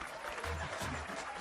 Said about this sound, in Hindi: तालियां बजाओ।